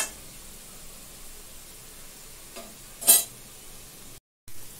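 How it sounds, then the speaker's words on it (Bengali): Vegetables frying in a pan while Maggi noodles are being made, a faint, steady sizzling hiss with one brief louder scrape or stir near the end, then a short dropout. "ভেজিটেবল ভাজি হচ্ছি দেখন্তু"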